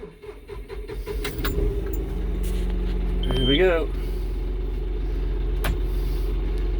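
A tractor engine cranks and catches after the key is turned, settling into a steady low diesel rumble close by, with someone speaking over it.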